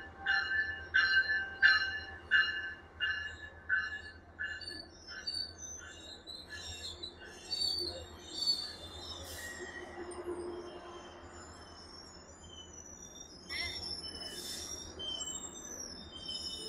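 A Los Angeles Metro train moves through a station, with rhythmic clacks of the wheels over rail joints and squealing wheels. The sound is loudest early, then fades to a low rumble before a brief swell near the end.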